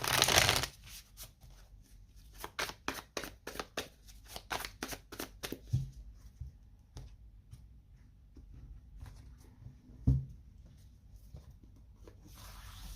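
Light Seer tarot cards being shuffled, with a burst of riffling at the start followed by a quick series of sharp card flicks and taps, then sparser soft handling noises and one louder knock, close and quiet.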